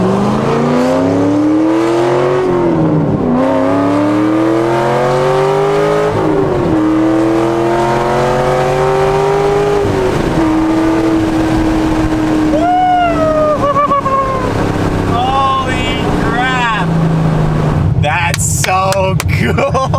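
Straight-piped Corvette Z06 exhaust rumbles loudly up close, its pitch swelling and settling through several rev rises and falls before a few sharp blips near the end, with faint voices under the engine.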